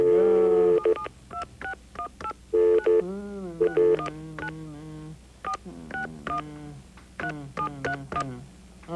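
Telephone keypad tones dial a home number, a quick run of steady dual-pitch beeps in uneven bursts with short gaps between them, loud and close.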